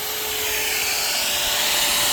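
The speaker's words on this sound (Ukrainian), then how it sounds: "Пилка гудить." Electric saw left running with its power button clamped on, giving a steady, loud, continuous motor hum and whine with no pauses and no voices.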